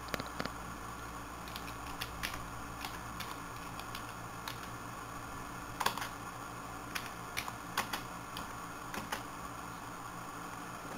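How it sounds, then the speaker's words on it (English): A command being typed on a computer keyboard while flashing an ATI graphics card BIOS: quiet, irregular key clicks spread across the whole stretch, with a few sharper taps, close and alone. "We're going to type that in."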